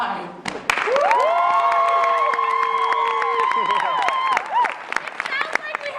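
An audience at a live contest applauds and cheers for contestant number five, with dense close clapping under long, shrill, overlapping whoops and screams that stay loud for several seconds before breaking up.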